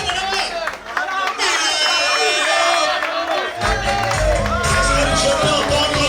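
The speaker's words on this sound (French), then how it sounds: "Je peux entendre les acclamations scientifiques, les acclamations académiques." University audience at a best-thesis award ceremony cheering and acclaiming, a loud sustained roar of voices and whoops with music underneath, swelling partway through and staying strong to the end.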